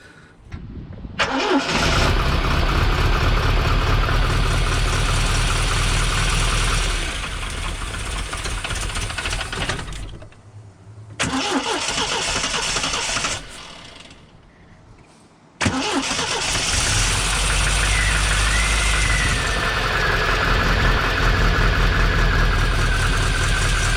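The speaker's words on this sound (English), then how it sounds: "So the engine's struggling a little bit" A Triumph TR7 engine runs loudly and unevenly, low on fuel, cutting out twice and restarting, with a rough, labouring drone throughout.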